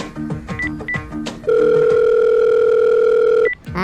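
A telephone sounds with a few short electronic beeps, then a loud, steady two-second tone and another beep, close and clear with no voices.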